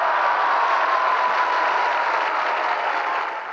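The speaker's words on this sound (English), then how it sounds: "the crowd at the Russian Parliament building had something to cheer about" Crowd at the Russian Parliament building in Moscow breaking into a dense, continuous roar of cheering and clapping, heard fairly close and steady throughout with only a slight fade at the end.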